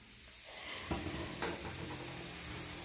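Papad frying in hot oil in a home kitchen, a steady soft hiss and sizzle throughout with a couple of sharper crackles near the start, close and continuous, no voices.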